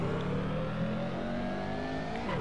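Honda Civic engine revving steadily in the NR2003 racing game, a continuous mid-pitched drone holding at constant loudness with a slowly rising tone, no talk.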